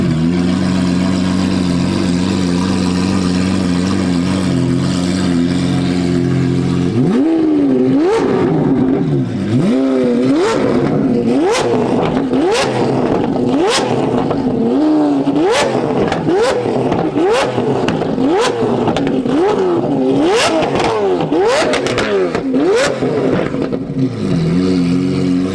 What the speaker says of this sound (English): that V8 sounds next level.